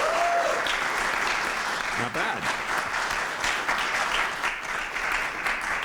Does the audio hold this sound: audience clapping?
yes